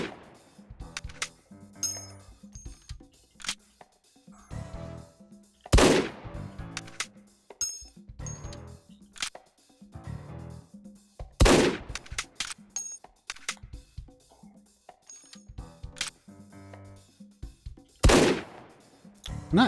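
A single-shot gun fired in the VR game Hot Dogs, Horseshoes & Hand Grenades, with loud sharp reports spaced several seconds apart and clicks and clatter of reloading in between.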